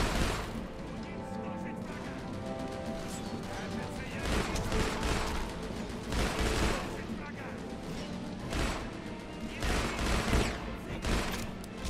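Sustained gunfire in the Deadfall Adventures video game, a dense, continuous barrage of overlapping shots with louder bursts throughout and a voice talking over the shooting.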